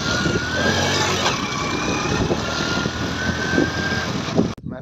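A motorbike rides along a road, its engine giving a loud, steady droning hum with rushing wind noise close by, before cutting off abruptly at the very end.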